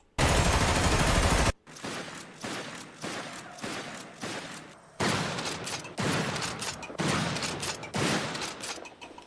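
Carbine and other weapons firing in the video game Primal Carnage Evolution, opening with a dense sustained automatic burst, then a steady series of loud, evenly spaced shots with reverberant tails.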